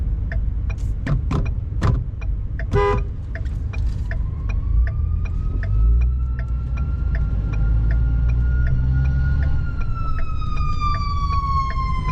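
An EMS ambulance siren wails past on a street in Indiana, rising and sweeping through its cycles as it goes by, loud over the steady hum of a moving RV, with a few short blasts near the start.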